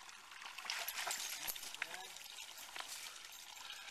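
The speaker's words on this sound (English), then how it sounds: "Blow up the bag, put it underneath your water source, let it fill up." Stream water trickles and splashes into a Sawyer Mini filter bag, producing faint, close dribbling with small clinks and gurgles, with no talk over it.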